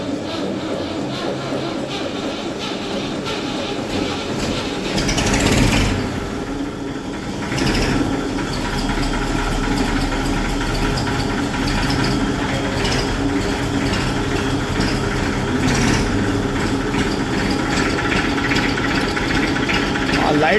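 A farm tractor's diesel engine turns over and settles into a steady, loud, close idle with a rough, knocking throb, running continuously while someone speaks over it.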